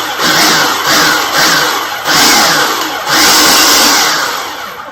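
A food processor pulses a chunky bourbon bacon jam, with a loud motor whirring in several short, close bursts that swell and fall back one after another with no speech.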